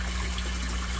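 Water gushes steadily from the solid lifting outlet of a recirculating tilapia aquaculture tank, a continuous low, even rush with a faint hum underneath and no voices.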